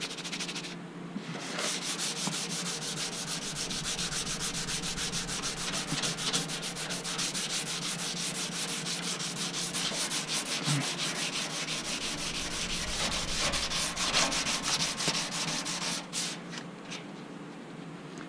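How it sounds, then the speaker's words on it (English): Steady, continuous hand sanding of primer on a 1996 Honda Civic's body, a dry scratchy rubbing that keeps going without pause, fairly close and moderately quiet. "you just keep sanding until it kind of goes away"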